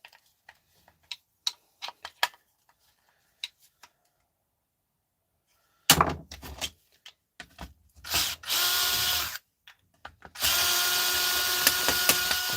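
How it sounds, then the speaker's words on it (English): Scattered clicks and taps give way to loud bursts of a power drill whirring close by as it removes screws, starting and stopping in several runs. "Normal electric drill rips it out."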